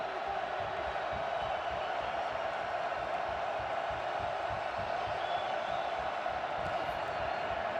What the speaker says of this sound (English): they'll do it dealing with the crowd noise